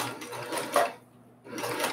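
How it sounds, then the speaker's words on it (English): A Brother PQ1500 SL semi-industrial sewing machine stitches a quarter-inch seam, its needle running in a steady fast rattle that stops briefly and then starts again. "head over to your sewing machine, and I want you to sew 1/4 inch seam on either side"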